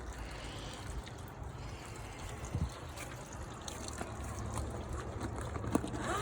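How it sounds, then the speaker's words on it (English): Rainwater drains from a raised garden bed in a steady, faint trickle and splash, a continuous watery hiss with small bubbling bursts throughout. "I got filled with water, and I'm draining it out and gathering the rainwater."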